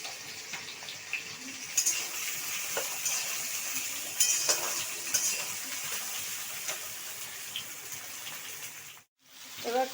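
Taro stolons (kochur loti) frying in a pan tempered with whole cumin, a steady hiss of sizzling oil with scattered scraping and clinking as they are stirred, near and alone before a brief dropout.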